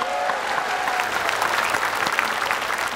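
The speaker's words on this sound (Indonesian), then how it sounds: "Tepuk tangan dulu semuanya." Studio audience at an Indonesian TV talk show breaks into steady, dense applause that holds at an even level throughout, with a few voices faintly mixed in.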